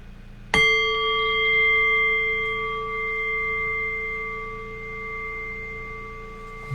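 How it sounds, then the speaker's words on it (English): A single meditation bell is struck once, giving a sharp clear strike followed by a long, pure ringing tone that slowly fades over several seconds in a quiet room. "in a few moments then I'll ring the bell and I'll guide us in."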